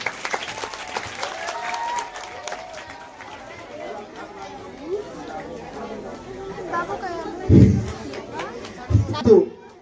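Applause and crowd chatter at a teacher's retirement and farewell ceremony, a murmuring hall of voices with bursts of clapping near the end, fairly close and moderately loud.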